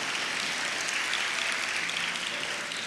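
A church congregation claps in a steady, full burst of applause lasting about three seconds, even and continuous with no voices on top.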